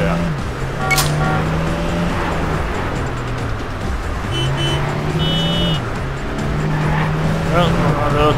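Engine drone of a Peugeot car driven in the video game Wheelman, a steady tonal hum rising and falling with throttle changes, with brief game effects and someone talking over it throughout.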